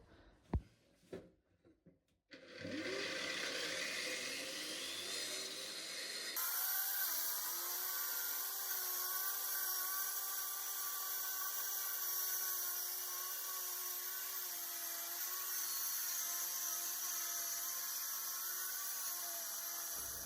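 A wall chaser cuts channels into a wall for pipes on a plumbing job, starting after a few sharp knocks and then running as a loud, steady, high-pitched grinding whine that holds for most of the stretch.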